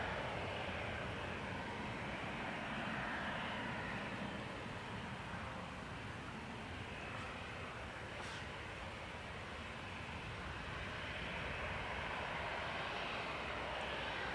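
Ryanair jet engines rumble at Dublin Airport as a steady broad roar, moderately distant, holding evenly for about fourteen seconds with a slight dip partway through and no voices.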